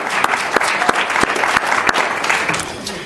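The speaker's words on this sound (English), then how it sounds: "round of applause for Michael" A theatre audience at a legislative education conference breaks into steady applause for an executive director, a brief burst of dense clapping with a few sharp nearby claps standing out.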